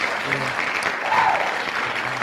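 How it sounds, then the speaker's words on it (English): Applause from a small group or crowd fills the clip, a steady patter of clapping with no talk over it. It comes on a streamer's live show, greeting a guest who joins the platform. "Let me get the round of applause ready."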